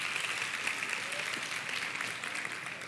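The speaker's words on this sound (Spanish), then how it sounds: "Un aplauso para ella." Applause from a church audience at a Spanish-language talk on women who leave a mark, a steady, even wash of clapping that holds through the whole stretch at moderate loudness with no voices over it.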